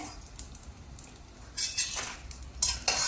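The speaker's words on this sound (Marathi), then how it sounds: "हलवत हलवत डिंक पूर्ण फुलू द्यायचंय." Edible gum stirred in hot ghee in a wok as it puffs, giving light scraping clinks and soft sizzling crackle, louder bursts toward the end, with no talk.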